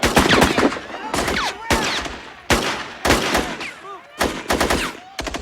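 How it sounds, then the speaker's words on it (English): Loud bursts of sniper and automatic gunfire in a street shooting, several sharp volleys in quick succession with brief gaps, close and harsh, some scattered voices faintly underneath. "Alina, you've seen the shooting. It is still going on."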